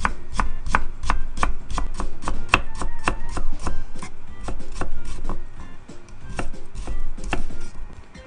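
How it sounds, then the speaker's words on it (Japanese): A knife slicing carrot thinly on a cutting board while packing a bento lunch: rapid, crisp chopping strikes in a fast irregular rhythm, close and clear with no talk. "人参は斜め薄切りにしてから細切りにするよ。"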